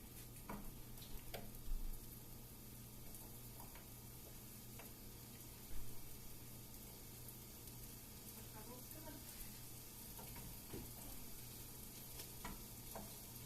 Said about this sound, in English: I'm just breaking up the onion as we go